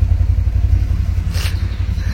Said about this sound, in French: Il est parti en drift avec la moto